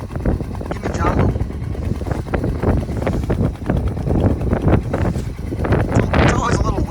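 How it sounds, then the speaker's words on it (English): Gusty wind buffets the microphone beside a river along a gulch trail, a loud rumbling roar that surges and eases throughout, with a person speaking over it. "It's always a little windy right here."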